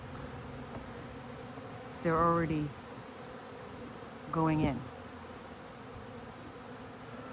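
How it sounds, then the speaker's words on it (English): Italian honeybees at a hive entrance give two short, loud buzzing passes close by, each lasting about half a second, over a quiet background with a brief spoken remark. "These are Italian honeybees, and I never have trouble with them."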